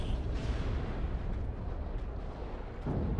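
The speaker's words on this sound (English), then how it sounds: "Look at that las cannon shot. That las cannon shot just dents the thing's HP." A lascannon shot in the Dawn of War 2 strategy game booms amid battle noise, a heavy low rumble with bursts layered over continuous combat sounds.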